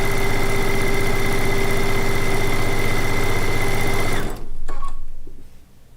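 A sewing machine chain piecing quilt blocks runs loud and steady in a long continuous stitching burst, then stops abruptly, followed by a brief rustle of fabric.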